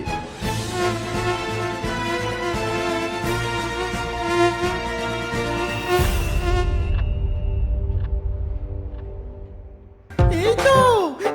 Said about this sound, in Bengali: ডাইনি মশার দল তাদের দিকেই ধেয়ে আসছে